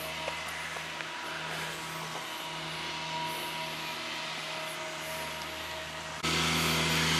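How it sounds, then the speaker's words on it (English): A lawn mower runs nearby in a shaded garden, giving a continuous droning engine hum with a steady low buzz that persists throughout and grows slightly louder near the end. "That noise is somebody lawn mowing."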